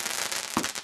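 A firework rocket from a box of fireworks going off, a sharp crackling burst and hiss over a steady rushing noise, brief and fairly loud, with no talking.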